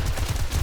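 Armor-piercing rounds fired in the survival game 7 Days to Die, loud continuous gunfire with dense, rapid low thumps and no gaps, close and unaccompanied by voices.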